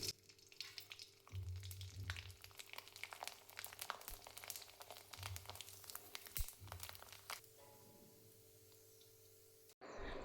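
Semolina kurdai fry in hot oil with a close crackling sizzle and bursts of bubbling spatter. The sound fades and quiets near the end.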